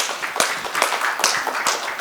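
An audience at an education conference panel discussion applauds a panelist, a brisk run of sharp individual claps with distinct hand strikes standing out over a light background patter.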